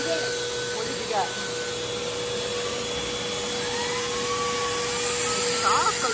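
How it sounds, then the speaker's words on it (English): A new household vacuum cleaner runs steadily nearby with a continuous whining hum, while faint voices and small clatters come and go in the room. "We got a new vacuum, and the boy got straight to work."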